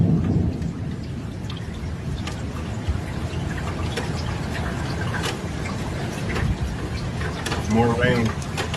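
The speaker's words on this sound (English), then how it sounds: "More rain." Heavy rain pouring steadily during street flooding in Italy, a dense loud roar with low thunder rumbling beneath it and a brief voice near the end.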